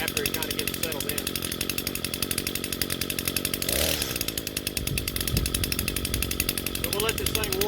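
An Echo SRM 225 two-stroke grass trimmer engine warms up, buzzing steadily and loudly up close with a brief surge partway through, while someone talks over it.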